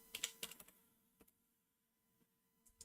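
Brief burst of computer keyboard typing on a desk, a quick cluster of sharp key clicks near the start followed by a few isolated taps, then quiet.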